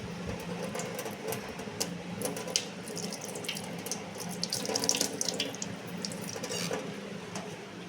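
A kitchen tap runs steadily while hands are washed under it, with a continuous hiss of water splashing into a sink. The sound is close and moderately loud for about eight seconds, with no talking.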